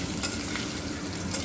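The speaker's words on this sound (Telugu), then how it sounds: "నెత్తళ్ళు వేగిపోయి చూసారా, ఆయిల్ చెట్పెట్లాడుతుందంటే నెత్తళ్ళు వేగిపోయినట్టే కదండి." Dried fish frying in hot oil crackles with a constant close sizzle, punctuated by a couple of sharp pops and a light stirring scrape.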